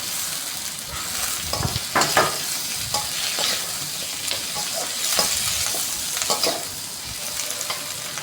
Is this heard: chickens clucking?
no